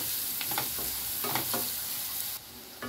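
Onion fries in a pan for egg curry, giving a close, bright sizzle broken by several scraping stirs, then a sudden rise in the hiss near the end.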